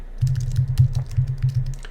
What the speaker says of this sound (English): Talking and typing is a little bit hard, so let me just type this.